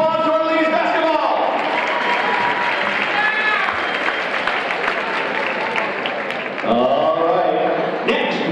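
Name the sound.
audience applause for the ladies basketball team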